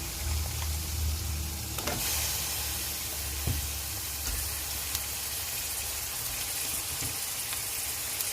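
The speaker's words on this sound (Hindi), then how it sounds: "मटन को हम इतना भूनेंगे कि इसका अपना पानी ड्राई हो जाए।" Mutton pieces with chopped garlic and ginger sizzle and fry in a pot, a constant close hiss with occasional soft clinks and stirring knocks, no talking.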